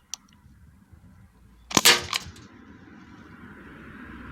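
A customized Crosman 1077 air rifle fires once, a sharp, bright crack with a short metallic ring, preceded by a small faint click and followed by quiet outdoor background hiss.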